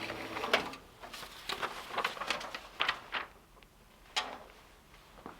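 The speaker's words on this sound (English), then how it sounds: "of course, I use the printer." An office printer running off design mockups, giving a faint, intermittent series of mechanical clicks and whirs in a quiet room.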